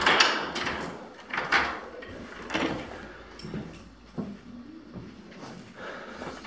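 Doors in a premium rental townhouse being opened and shut, with several soft knocks and latch clicks spread across the clip, close by and moderately loud under faint room noise.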